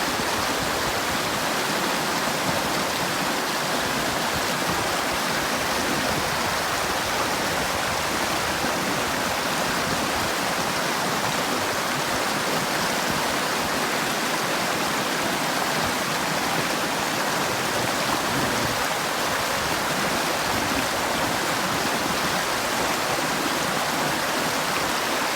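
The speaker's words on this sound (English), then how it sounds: "This is Whitewater River" Steady, full-band rush of the Whitewater River flowing along a Pacific Crest Trail hiking route, a constant loud roar of moving water with no breaks and no voices throughout.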